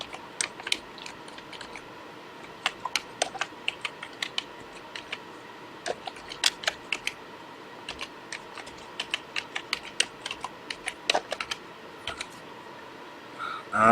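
Typing on a computer keyboard, a steady run of light, fast key clicks in irregular bursts, close and fairly quiet with no voices.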